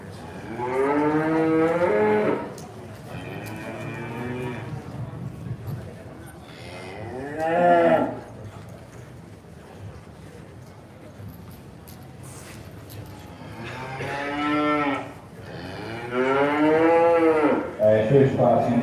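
Cattle at a purebred steer show moo repeatedly in long, loud, drawn-out calls, some close and some further off, with a hall-like ambience and faint voices between the calls.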